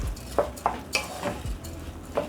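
A spoon stirs rice with whole cloves and cardamom in a pot, scraping and clinking in a steady rhythm of about six strokes, close and moderately quiet.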